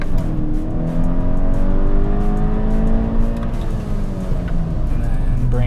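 Car engine pulling hard from a standing launch with traction control switched off, revs climbing strongly in a loud, steady surge from inside the cabin, fitted with a Mishimoto liquid chill setup.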